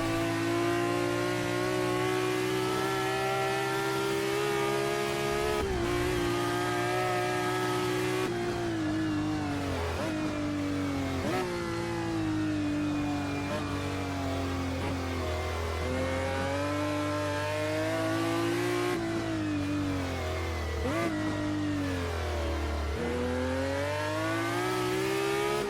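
A historic race car in a racing video game revs hard through its gears. A sustained, loud engine note climbs and drops repeatedly, with sharp gear changes and lift-offs and brief tyre squeal.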